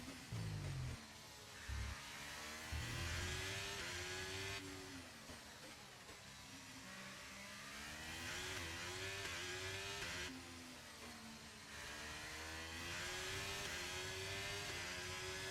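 An F1 car engine in the racing game F1 23 whines steadily at high revs around the track, its pitch climbing and dipping with each upshift and corner, loud and continuous with no talk.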